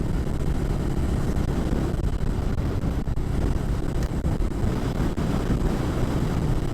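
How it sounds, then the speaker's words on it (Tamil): Steady wind roars and buffets the microphone in the Jawadhu Hills, a broad continuous rush with occasional gusts and no voices. "நல்லா காற்றும் நல்லா அடிக்குது."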